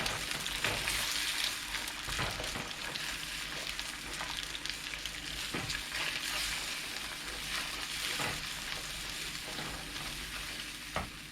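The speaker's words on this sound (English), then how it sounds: "Scramble the egg." Egg scrambling in a hot pan alongside chayote in a stir fry, giving a steady, dense sizzle with faint scraping stirs throughout, close and continuous with no talking.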